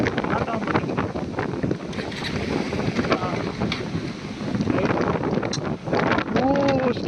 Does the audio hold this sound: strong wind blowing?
yes